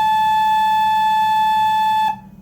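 A rear pipe of an electrically controlled pipe organ sounds one sustained mid-high tone with bright overtones, held steadily for about two seconds before stopping abruptly.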